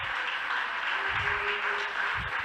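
Continuing applause from a school debate audience, a steady broadband patter of many hands at moderate level, with faint low rumbles beneath and no clear voices.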